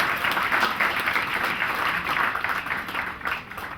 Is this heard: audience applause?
yes